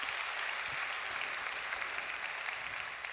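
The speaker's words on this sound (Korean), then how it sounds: "그리고 수고한 전도사님한테 박수 한번 쳐줄까요?" Church youth congregation clapping for the evangelist, a continuous even patter of applause throughout, moderately loud and steady.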